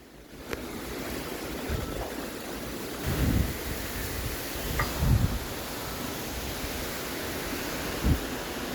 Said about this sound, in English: The wind's getting really strong.